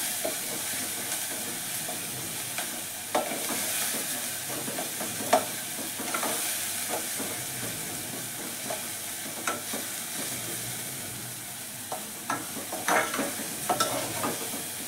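Spice paste roasting in a pan for green peas and potato rice, with a steady sizzle, a stirring spoon scraping at intervals and occasional sharper clicks against the pan, close by and with no talking.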